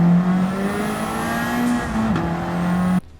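A race car's engine revs hard in Gran Turismo 7, a steady high-pitched drone that climbs, shifts abruptly and climbs again before cutting off sharply, close and loud with no talk.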